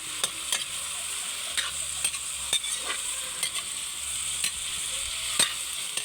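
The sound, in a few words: pork backbone frying and being stirred in oil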